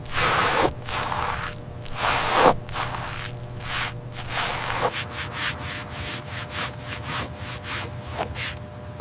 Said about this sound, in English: Almost done with the scrub.